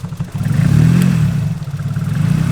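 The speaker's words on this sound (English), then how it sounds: "Rev's quick. See, she does have a little trouble idling." A Nissan S14 with a suspected small vacuum leak revs quickly, then settles into an uneven, rough idle; the engine's low, throbbing drone stays loud and close throughout, with no talk.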